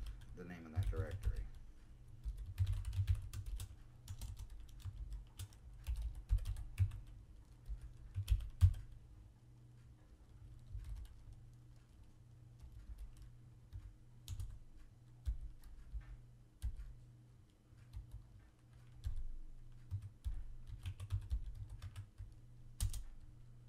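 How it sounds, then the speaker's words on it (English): Steady typing on a computer keyboard while entering server commands over SSH: close, soft clicks with a brisk, uneven rhythm running throughout over a low background hum. "Oops, typed it wrong."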